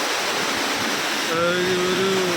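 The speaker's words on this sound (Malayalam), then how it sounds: "എന്തായാലും അടിപൊളിയായിട്ടുണ്ട്, നല്ല രസമായിട്ടുണ്ട് ഇത് വെള്ളച്ചാട്ടം" Ramboda waterfall in Sri Lanka roars as a loud, steady broadband rush of falling water, with a brief tonal sound rising over it partway through.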